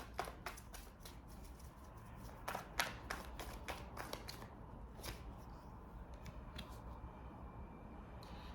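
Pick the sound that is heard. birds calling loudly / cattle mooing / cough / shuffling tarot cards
shuffling tarot cards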